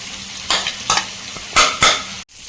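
Paneer and masala frying in a pan on a high flame, a steady sizzle broken by four or five loud scraping stirs, close up and without any voices.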